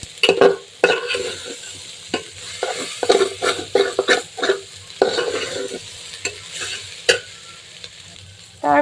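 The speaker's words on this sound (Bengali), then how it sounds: "এখন আরেকটু ভেজে নেব সব কিছু" Spices and vegetables for khichuri with amra frying in a pot, a loud close sizzle under busy rhythmic stirring with frequent scraping knocks of a spoon against the metal.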